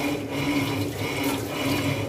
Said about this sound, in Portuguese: Vou jogar a água para você ver melhor